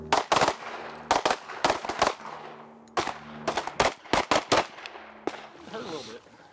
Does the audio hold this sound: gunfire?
yes